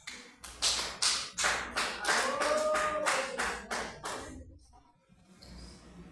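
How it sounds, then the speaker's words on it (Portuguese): Church congregation clapping in rhythmic unison during a praise service, a steady run of sharp claps that fades out near the end, followed by quiet room noise. "As palmas para Jesus,"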